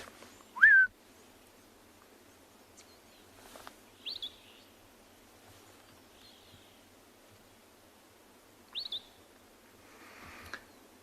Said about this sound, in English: there's still wonderful calls of various species of birds